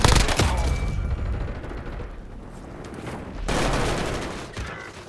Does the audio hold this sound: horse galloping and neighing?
no